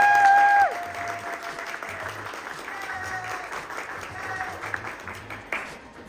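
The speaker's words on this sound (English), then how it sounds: "can we also give a big round of applause to Miss Dinah?" Applause breaks out from an audience at a Black History Month children's reading-time event, a fairly soft spread of clapping that follows a brief tone and carries on through the whole stretch with a few sharper claps near the end.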